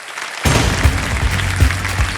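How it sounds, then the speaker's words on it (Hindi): Studio audience at a televised Hindi quiz show bursts into loud, sustained applause welcoming contestants who have come on stage, dense clapping starting abruptly and continuing steadily throughout. "तालियों के साथ मैं चाहता हूं कि इनका स्वागत किया जाए।"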